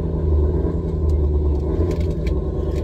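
A Ford Mustang's factory exhaust rumbles steadily at idle, a deep, even, close-up burble lasting a few seconds with no talking.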